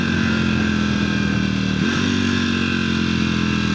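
A motorcycle engine runs steadily at high revs close by at night, a loud continuous droning buzz with a brief dip and recovery partway through.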